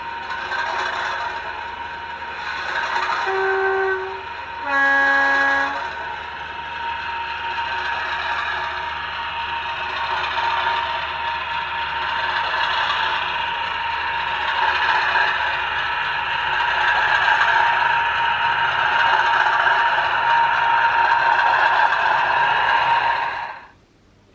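Steady diesel locomotive engine drone from a Hornby Class 50 model sound file, recorded from a preserved Class 50 on the Chinnor and Princes Risborough Railway, with a two-tone horn sounding twice early on.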